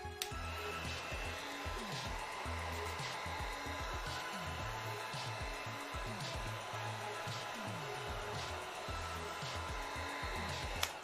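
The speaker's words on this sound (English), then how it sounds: "is to use a heat gun on it" A heat gun blows a constant, even whooshing hum as it warms craft foam seams, with faint intermittent tapping and handling noises beneath it.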